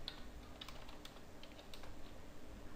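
Code being typed on a computer keyboard, quiet irregular key clicks in short bursts, faint and close, with no talking.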